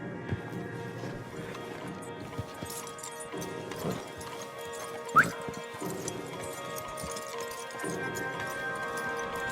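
Hooves of several horses and stallions clip-clop steadily in Red Dead Redemption 2, a continuous rhythmic plodding in the middle distance under an ambient bed, with a voice heard briefly among the hoofbeats.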